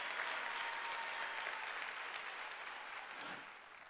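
Church congregation at a Sunday worship service applauding, a dense, steady wash of many hands clapping that fills the whole stretch and fades slightly toward the end.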